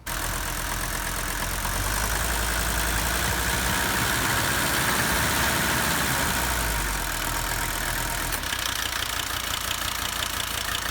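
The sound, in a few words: car engine idling with rattle from air conditioning pump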